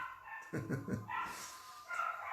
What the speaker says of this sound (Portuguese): vamos nos abstrair do barulho do cachorrinho